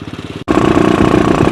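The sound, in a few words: modified Royal Enfield Thunderbird 350 motorcycle engine running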